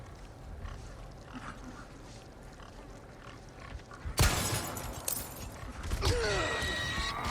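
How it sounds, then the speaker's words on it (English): Pig-like villagers grunt in the video game Resident Evil 4, low quiet grunts and creaks first, then a loud crash and shattering burst midway, followed by more grunting and clatter. "the pigs are attacking right now"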